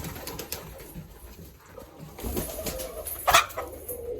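Cheena pigeons being fed grain coo softly in the background with a brief burst of wing flapping near the end, no voices present.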